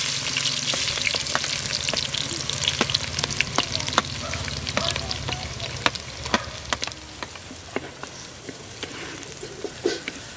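Onions frying in oil with cinnamon, cardamom and cloves for a village-style mutton curry in a clay pot, a steady close sizzle broken by frequent sharp clicks and scrapes of stirring, no talking.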